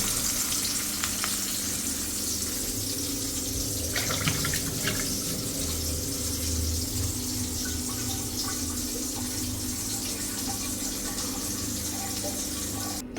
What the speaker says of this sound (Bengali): মাছগুলোরে সুন্দর করে মশমশা করে ভেজে তারপর রান্না করবো